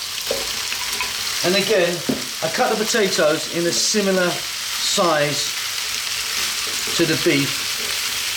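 Beef and potatoes fry in a hot pan for a beef potato curry, a steady sizzle running the whole time beneath a person talking close by.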